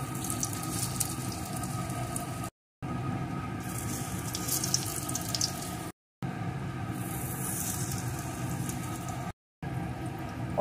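Puffed rice fritters fry in hot oil over a low gas flame with a steady, close, rushing sizzle like running water. The sound is interrupted by a few brief silent gaps.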